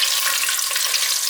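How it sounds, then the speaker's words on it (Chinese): Spices stir-frying in a hot pan for a vegan home-cooked dish give a close, steady, crackling sizzle with light scraping, brief and alone without any talk. "把香料炒一炒"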